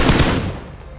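Gunfire in the mobile battle royale game BGMI: a short, loud burst of rapid shots right up close, fading out within about a second.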